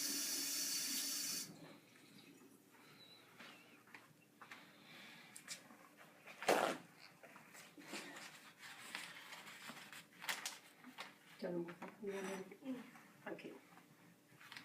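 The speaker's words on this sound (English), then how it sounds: "I'll just go wash my spoon." A kitchen tap gushes briefly at the start as a spoon is washed while making millionaire shortbread, followed by scattered clinks and splashes under quiet talk.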